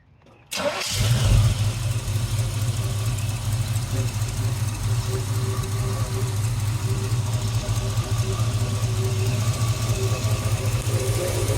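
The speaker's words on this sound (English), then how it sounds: "Yeah, fire it up." The original 402 engine in a 1972 Chevy C10 Super Cheyenne short bed pickup catches after a brief start and settles into a loud, steady, low idle that runs close-up for about eleven seconds.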